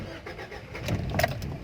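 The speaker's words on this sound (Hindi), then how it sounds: "तो अब जो है मैं गाड़ी को की लगाता हूँ और हम गाड़ी को स्टार्ट भी कर लेते हैं।" A 2007 Toyota Corolla XLi engine cranks and catches, a short mid-pitched start rising to a steady run, heard fairly close with some background murmur.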